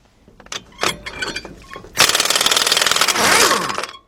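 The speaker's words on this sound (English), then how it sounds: "That same 21mm with your gun." Close clicks and handling noises lead into a loud, rapid rattling burst of an impact gun with a 21mm socket hammering out front hub bolts on a 2005 Nissan Titan 5.6 for about two seconds.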